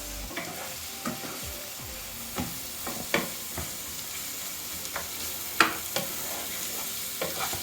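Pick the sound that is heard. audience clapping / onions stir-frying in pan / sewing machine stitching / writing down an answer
onions stir-frying in pan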